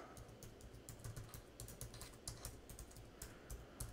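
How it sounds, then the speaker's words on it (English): Fingers tap rapidly on a computer keyboard, entering an email address in a quick, uneven stream of soft, close key clicks with no talking. "I will type my email address right now."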